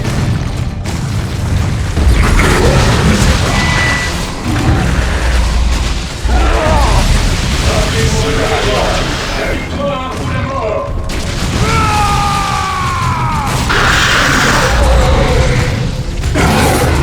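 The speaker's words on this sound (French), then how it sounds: "ils sont 2 maintenant à tirer au lance-plasma" Heavy booms and bursts from two plasma guns firing in a Dawn of War 2 battle, with loud repeated blasts, whooshes and whining energy tones over dense game noise throughout.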